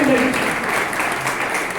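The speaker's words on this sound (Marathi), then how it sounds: "जरा जोरदार टाळ्यांचा गजर करूया." Loud, dense applause from an audience at an award ceremony for a landscape painting competition, steady clapping with a brief voice rising over it at the start.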